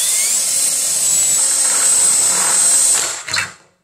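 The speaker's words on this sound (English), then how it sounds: "So again, we're going to need to take our drill" A power drill bores a hole in a single sustained high-pitched whine, loud and close, that winds down sharply near the end with a brief final burst.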